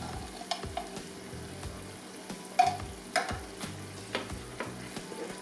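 Tomato sauce is stirred into a stew of fabes verdinas with prawns and monkfish. Soft sizzling sits under several gentle clacks and scrapes of a utensil against the pot.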